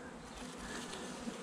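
Honeybees buzz steadily and softly around an open hive during a routine inspection, a continuous low drone with no talk.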